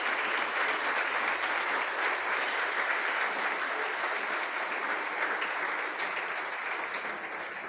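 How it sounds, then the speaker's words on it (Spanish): A church congregation applauds at a Sunday service, dense continuous clapping from a large crowd filling the room at steady loudness, tapering slightly toward the end, with no clear voices over it. "Dale un fuerte aplauso al Señor."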